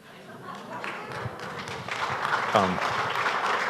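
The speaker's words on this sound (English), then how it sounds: "It's a curious applause line" Lecture audience applauding, the clapping building gradually from quiet to fuller over a few seconds with some voices mixed in.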